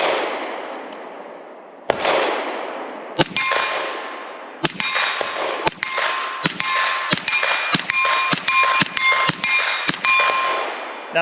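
Suppressed 300 Blackout or 9mm carbine shots striking a steel target, about a dozen sharp metallic clangs with ringing tails, loud and close, the first few spaced apart and the rest in a quicker irregular string.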